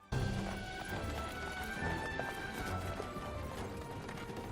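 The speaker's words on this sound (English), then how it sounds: "they get into a horse carriage and go riding around the village" Hooves of a horse pulling a carriage through a village clip-clop in a steady brisk rhythm, loud and close, amid rolling wheel rattle and busy background noise in a film scene from The Little Mermaid.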